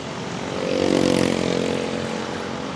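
Junior 206 class racing karts with Hugler Racing Engines at a night shootout race, a pack of small engines droning loudly and steadily, swelling as they pass close by and then holding a sustained buzzing roar.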